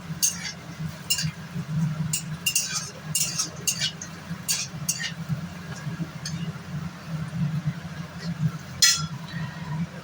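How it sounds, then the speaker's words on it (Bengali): A spatula or spoon clinks against a frying pan as bitter gourd (karela) fries, with sharp scattered metallic taps over a steady low sizzle and hum in a home kitchen. "করলা ভাজা আমার প্রায় হতেই চললো, দেখো তোমরা।"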